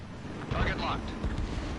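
A destroyed target explodes in the jet-combat game Ace Combat 7 with a rumbling, wind-like blast that swells, then rolls on under faint voice chatter.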